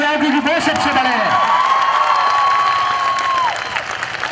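Audience applauding at a speech event in Rajasthan, a dense, steady wash of clapping and crowd noise that stays loud throughout and thins slightly near the end, with voices mixed in.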